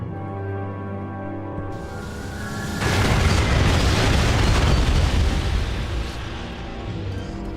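Powerful missile blasts in Metroid Prime 3 build into a loud, sustained roaring explosion that swells midway and rumbles on, with a steady tonal hum beneath.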